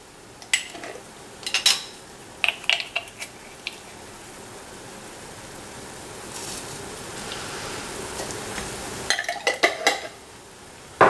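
Dried organic vegetables, including courgette, tipped into a soup pot and stirred, giving a string of light clinks and rattles against the pot, then a quieter stretch and a final burst of clatter near the end.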